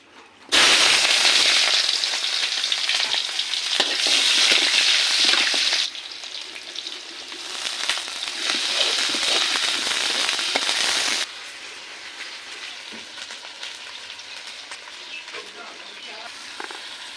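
Spices with cumin paste fry loudly in a pan for a tripe curry with potatoes, a dense crackling sizzle that drops in level twice as the cooking settles, with no talk.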